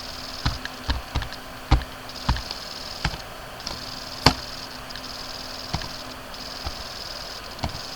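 Fingers tap a computer keyboard while entering an email address and password to create an Amazon Kindle Direct Publishing account: irregular, close, crisp key clicks in short bursts with brief pauses, over a faint steady room hum.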